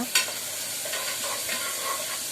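Tempering spices sizzle and fry in hot oil with a steady crackle and brief stirring scrapes, close and fairly loud, with no voices.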